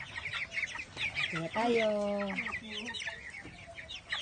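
Broiler chickens about four weeks old, raised at home, give soft clucks and one louder drawn-out squawk in the middle, fairly quiet and close, with a person speaking briefly.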